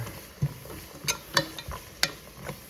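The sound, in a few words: stirring vegetables in a pot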